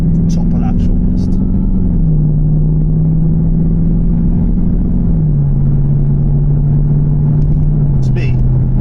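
Jaguar XFR V8 engine droning steadily while driving, a loud continuous low rumble with slight shifts in pitch as the car changes speed, with no other sounds on top.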